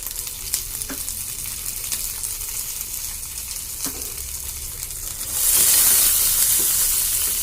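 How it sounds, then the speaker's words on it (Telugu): Onions and boiled peas fry in a pan for tomato rice, a steady close sizzle with faint stirring scrapes, swelling into a louder, brighter hiss over the last couple of seconds. "వీటిని బాగా ఫ్రై చేసుకుందాం ఆనియన్స్ అవి ఫ్రై అయిపోయాయి కదా"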